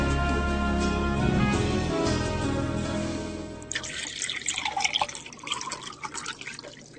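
Water is poured into a glass in a steady, rising fill for several seconds, then gives way to a brighter splashing trickle, heard close and alone without talk.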